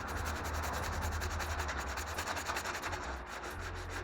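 A repair area on a Ford Capri 2.8i strut tower gets a quick rub with an abrasive, a steady close scraping and sanding friction continuing for several seconds.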